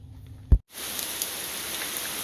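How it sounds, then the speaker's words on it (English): Steady rain falls outside a trail shelter, a soft even hiss of drops after a brief thump at the start, with no one talking. "This rain started, I'm serious, not more than 5 minutes after I got inside this shelter."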